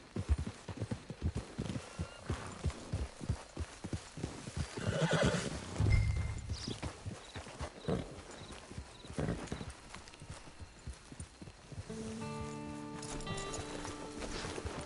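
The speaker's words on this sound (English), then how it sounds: "It's your horse." A horse in the video game Red Dead Redemption 2 Online clip-clops with rapid rhythmic hoofbeats, snorts and gives a loud neigh midway, then game music tones chime near the end.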